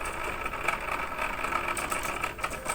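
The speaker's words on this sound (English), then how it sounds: "Notice how the blade moves like your machine, as if the machine is broken." A Cricut cutting machine runs with its blade moving in a zigzag line, producing a steady, close mechanical whirring buzz with small rhythmic ticks throughout. No one speaks.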